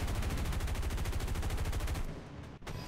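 An aircraft machine gun in War Thunder fires a long, rapid burst of evenly spaced shots at a flak gun, loud and close, then cuts off into engine drone with a brief dropout.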